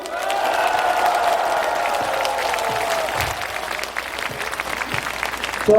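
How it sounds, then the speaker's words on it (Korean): An audience at a Buddhist closing ceremony at Beopjusa temple breaks into sustained applause with some cheering, dense and fairly loud throughout, ending with a louder burst. "박수!"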